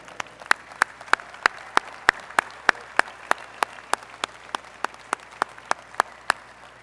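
Close, sharp claps ring out in a steady, evenly spaced rhythm at a university commencement ceremony. Faint room ambience sits beneath them.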